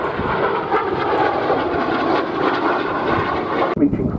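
F-86 Sabre jet flying past at the Duxford airshow, a sustained loud jet roar with broad rumbling texture, ending in a sharp cutoff, with a commentator's voice faintly under it.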